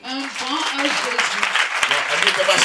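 A church congregation applauding, dense clapping rising over a voice and crowd noise, loud and close, with sharp individual claps standing out toward the end.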